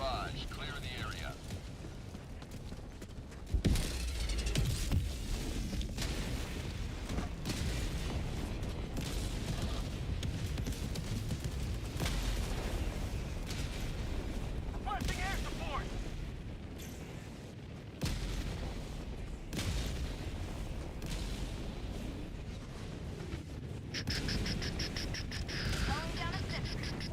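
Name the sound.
orbital barrage explosions in a video game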